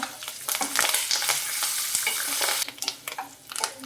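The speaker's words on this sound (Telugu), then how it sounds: "కొంచెం కరివేపాకునైతే యాడ్ చేస్తాను" Curry leaves crackle and sizzle as they hit hot tempering oil for a citron pulihora, a loud close spitting burst that settles into steady frying hiss with brief stirring pauses.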